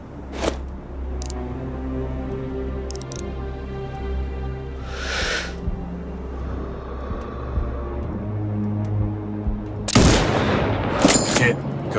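Sniper rifle shots in the video game Sniper Ghost Warrior 2: sharp reports over a steady droning music bed, the loudest cracks clustered near the end, with a voice speaking between them.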